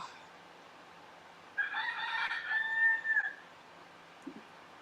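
A rooster crows once, a loud, drawn-out cock-a-doodle-doo lasting under two seconds, rising out of a quiet background and fading to near silence with a faint click after.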